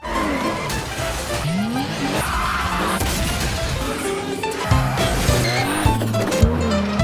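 Car drifting in a tight parking garage full of pillars and beams in the Tokyo Drift film, engine roaring with repeated tire squeals and skids, growing louder and busier toward the end.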